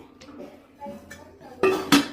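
Metal clinks and clatters from a pressure cooker lid as its rubber gasket is pulled out, two sharp clanks near the end after quieter handling, no talking.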